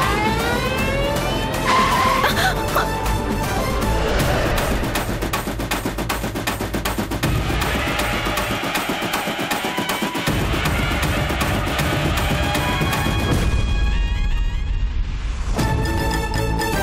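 A car approaches and skids in a loud, continuous roar of engine and tire noise lasting about seventeen seconds, briefly easing near the end before surging again.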